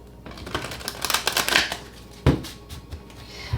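Tarot cards riffle together in a quick crackling run of close, papery flicks, then settle, followed by a single firmer snap as the deck is squared, quiet and alone.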